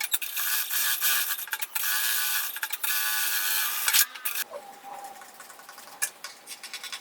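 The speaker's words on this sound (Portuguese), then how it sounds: "Agora eu já vou passar uma costura em toda a volta para fixar o forro no lugar" Sewing machine running a seam around a fabric lining for a tablet holder, a steady dense mechanical whir in bursts with brief pauses, then stopping and leaving quieter handling noises.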